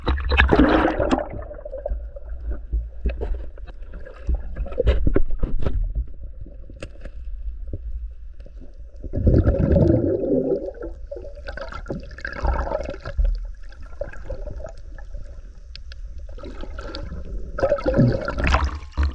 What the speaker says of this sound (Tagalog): Napakalakas ang alon.